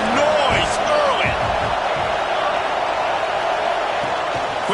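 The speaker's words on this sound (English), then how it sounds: "This crowd bringing the energy and noise early." Steady roar of a football stadium crowd at a Gamecocks game, broad and continuous, with scattered whoops and shouts rising from it; crowd noise fills the whole stretch at high level.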